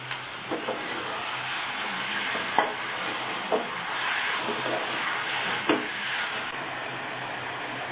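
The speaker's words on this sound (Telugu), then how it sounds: "ఇప్పుడు దీంట్లో మటన్ వేసుకున్నాం. ముందుగా శుభ్రంగా కడిగి పెట్టుకున్న మటన్ వేసుకున్నాం." Raw mutton being added to a pot and stirred for a mutton curry, a faint steady sizzle with soft scraping and a few light knocks, under a speaking voice.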